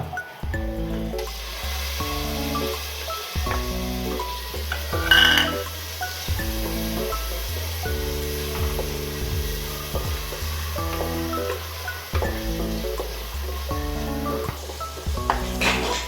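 Ginger sizzles and fries in a pan for garlic chicken, a steady hiss running throughout while music plays loudly over it and a utensil clatters now and then.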